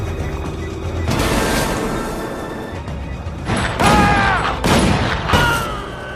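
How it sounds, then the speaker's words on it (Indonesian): Sharp, booming gunshot blasts ring out amid a tense, noisy cinematic soundscape, several loud cracks spaced a second or so apart with rumbling echoes. "Chris muncul dari tumpukan salju dan langsung melepaskan tembakan mematikan kepada Sasha dan akhirnya Sasha pun tamat."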